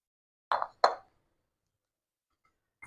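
Chopped green chilies drop into a bowl of chopped onion while making a Bengali snack, giving two soft, quick plops close by in an otherwise quiet kitchen, followed by a faint tap.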